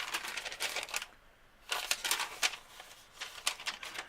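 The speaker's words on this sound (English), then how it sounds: "So I'm going to cut it to size." Non-stick, non-wax baker's parchment paper being cut to size from a roll, giving close, crisp bursts of papery slicing and rustling that pause for a moment, then return in quick repeated strokes.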